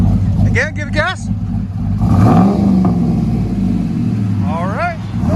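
A cammed 2011 Chevy Silverado 5.3L V8 with dual exhaust revs up in a loud swelling roar and settles back to a rumbling idle, with brief talking near the start and end.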